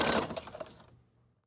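A sewing machine runs a zigzag stitch around a junk journal tag made from a greeting card; a brief, close whirring burst that quickly dies away.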